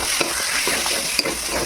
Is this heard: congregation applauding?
no